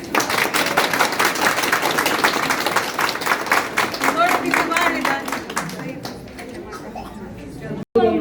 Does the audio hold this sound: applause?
yes